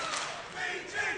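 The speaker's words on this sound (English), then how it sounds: "They're chanting BG, Brett Gibbs." A crowd chants at an IPF world classic powerlifting competition, men's open 83 kg, during a deadlift attempt; a short, loud burst of massed voices in a large hall.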